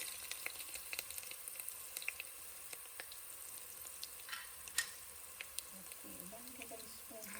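Garlic frying in hot oil gives a faint, continuous sizzle with scattered small pops and crackles. Quiet and steady, with no talking.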